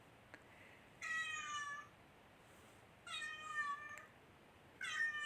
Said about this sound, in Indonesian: masih mengeong-ngeong